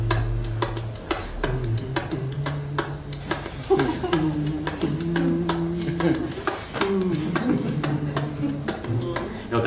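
Vocal beatboxing imitating a track, with steady crisp tick-like percussive clicks over hummed bass-line tones, close and continuous.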